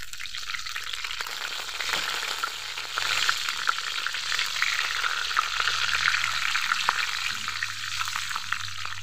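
Whole spices (panch phoron, cumin seeds, dried red chili and bay leaf) sizzle and crackle in hot oil, a steady close frying hiss with scattered pops and no talking.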